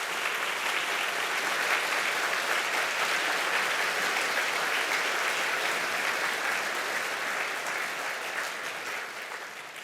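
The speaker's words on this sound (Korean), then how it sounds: "우리 감사와 환영의 박수 다시 한번 하겠습니다" A church congregation applauding during a worship service, dense sustained clapping from a large crowd, even and continuous for about ten seconds before easing slightly at the end.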